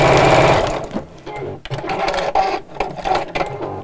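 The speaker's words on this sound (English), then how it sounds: "So this is quite a quick and fun way of quilting" A sewing machine runs fast and loud, quilting meandering lines across the fabric panel of a zipped pouch with woodland animals, a continuous whirring stitch with brief changes in speed.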